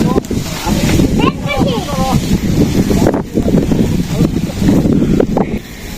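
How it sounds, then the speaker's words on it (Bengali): Strong wind buffets the microphone outdoors in a village where paddy is drying before rain, roaring steadily under several people talking. "প্রচুর বাতাস উঠছে"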